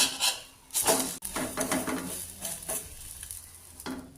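Eggs fry in a pan for a home-cooked lunch, a steady close sizzle with bursts of scraping and stirring and a sharp utensil clack near the start.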